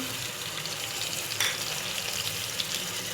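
Dal sizzles and fries steadily in a pan, a close crackling hiss with light stirring and a few sharper pops, no voices.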